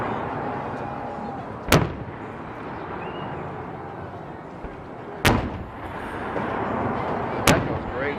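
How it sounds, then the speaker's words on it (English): Fireworks burst at a New Year's Eve display at a ski slope: three sharp, loud booms spaced several seconds apart over a steady background murmur of a crowd. "Those are pretty good cool fireworks actually."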